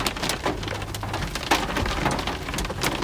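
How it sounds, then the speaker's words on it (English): Hail falling during a thunderstorm in Northwest Arkansas or Southwest Missouri, a dense steady patter of stones striking surfaces with sharper individual impacts scattered throughout, close and continuous with no talking. "We're getting some hail here."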